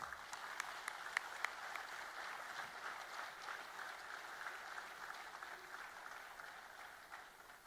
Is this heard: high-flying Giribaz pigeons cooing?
no